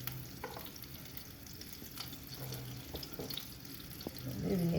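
Butter sizzles and fries in a hot frying pan for homemade pan pizza, a steady soft crackle with light clinks and stirring, swelling louder at the end.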